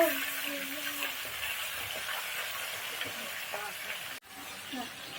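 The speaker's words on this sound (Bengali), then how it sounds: "যে মাছ ভাজা হয়ে গেছে আমি এখন তুলে নেবো" Fish fries in a pan with a steady, close sizzling hiss that runs throughout, with a brief dip near the end.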